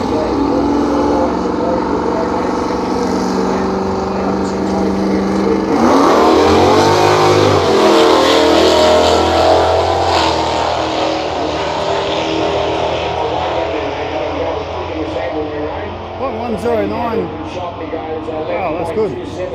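A 5.7-litre street car launches and accelerates down a drag strip at a local street meet, a loud rising engine roar that swells near the middle and then fades into the distance, under a commentator's voice.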